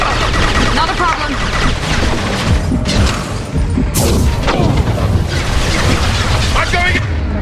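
Grenade explosions and gunfire in the Mass Effect 2 video game, a dense loud barrage of booms and shots throughout, with voices mixed into the combat.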